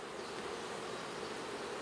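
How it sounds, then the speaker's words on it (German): Honeybees buzzing around their hives, a dense continuous hum of many insects at low to moderate level, with no other sounds. "Aber die Bienen haben sich auch hier gut eingelebt und genug Nahrung gefunden."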